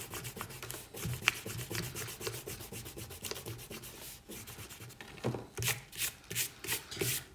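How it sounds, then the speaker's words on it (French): An eraser rubbing out a pencil construction line on paper while drawing a tomato emoji, a close, steady scratchy rubbing that continues throughout and ends in several slower, louder strokes. "On peut gommer notre trait de construction."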